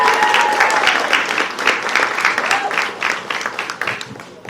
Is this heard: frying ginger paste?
no